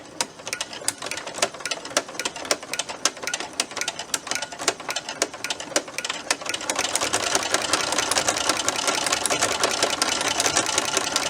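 A Brother sewing machine stitching with a ruffler foot, a fast, loud mechanical chatter of rapid needle strokes that steadies and speeds up into a denser whir in the second half.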